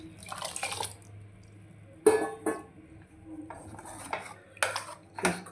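Cooked amaranth greens being smashed in a metal pot, heard as irregular clinks and scraping knocks of a utensil against the pot, with soft wet squelches between the sharper hits.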